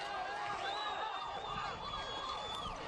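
Ambulance siren wailing in news footage as the vehicle pulls up, a steady rising and falling tone heard at a distance and fairly faint, with no talk over it.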